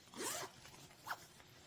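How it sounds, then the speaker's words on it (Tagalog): Zipper on a transparent travel pouch pulled in one quick run, with a second short zip shortly after, close and fairly quiet, no talking. "May zipper pa dito."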